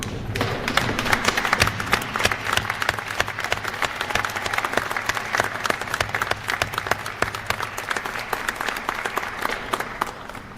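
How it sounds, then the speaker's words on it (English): An audience at a winter graduation ceremony for practical nursing, radiologic technology and diagnostic medical students gives a loud, dense round of applause that holds steady for the whole stretch. "if you'd please stand and give them a hand"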